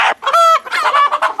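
Country chickens and roosters cluck close by on a native poultry farm, with a quick string of throaty clucks and short calls rising and falling, no talk.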